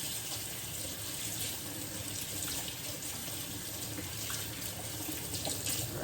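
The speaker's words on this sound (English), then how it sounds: "I'm just gonna wash my hands." Tap water runs steadily into a kitchen sink as hands are washed under it, a faint, even hiss with soft splashing that continues without a break.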